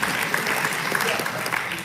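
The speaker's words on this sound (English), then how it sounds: "I need a round of applause for him" Audience applause at a World Day of Safety and Health at Work commemoration event, a dense, steady clapping from a crowd filling the whole moment at even loudness.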